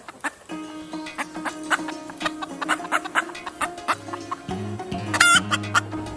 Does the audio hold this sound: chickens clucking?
yes